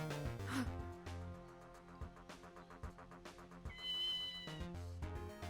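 A cat meows in the video game Ghost Trick, with a few short, fairly clear mews over constant looping game music and chiming effects.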